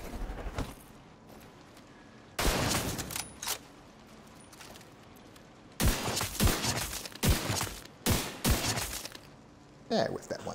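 Sniper rifle shots in The Division 2 video game, several loud sharp blasts with ringing tails separated by pauses, a cluster of rapid shots near the middle, with a voice talking at times.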